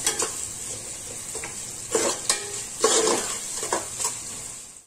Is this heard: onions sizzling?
yes